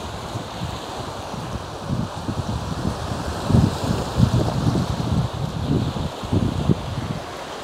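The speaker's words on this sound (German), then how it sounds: "Hört euch das Meeresrauschen an." Surf washes and rumbles nearby on a stony shore in an uneven roar, mixed with gusty wind noise on the microphone, no talking.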